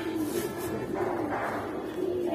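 Giribaz pigeons cooing softly and continuously at close range, a low steady rolling call with a little background noise.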